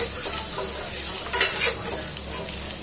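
Egg roast masala cooks in a pan, a loud constant bright sizzle with a couple of brief stirring scrapes partway through and no talking.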